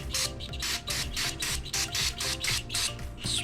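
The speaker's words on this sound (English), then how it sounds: "Spray it all with brake cleaner" Brake cleaner hisses from an aerosol can onto Yamaha TW200 motorcycle parts during an oil change, fired in about a dozen short, rapid bursts in quick succession, close and loud with brief gaps between sprays.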